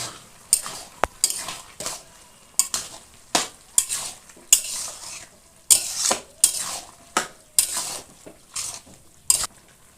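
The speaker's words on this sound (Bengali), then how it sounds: "সব কিছু এবার ভালোভাবে মিশিয়ে নেব।" A spoon stirs and scrapes through bottle gourd curry with potato, salt and turmeric in a pan, a series of sharp metallic clinks and scrapes at an uneven rhythm over a faint sizzle, with no voices.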